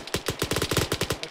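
Suppressing fire in Arma 3 comes as a rapid, loud, close string of automatic gunshots in a tight rhythmic burst, with no voices.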